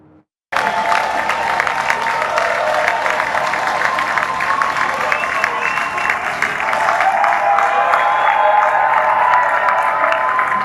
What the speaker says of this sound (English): Flag-waving crowds of cheering Labour activists lined down the street as Starmer arrived